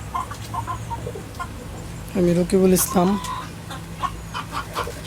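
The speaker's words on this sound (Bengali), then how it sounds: "আমার বাসার ছাদে আমি কিছু ফার্মি মুরগি দেশি মুরগি ও সোনালি মুরগি মিক্স একসাথে পালন করি" Mixed farm, local and golden hens cluck close by on a rooftop in short bursts over a low steady hum, while someone speaks briefly.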